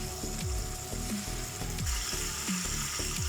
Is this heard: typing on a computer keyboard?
no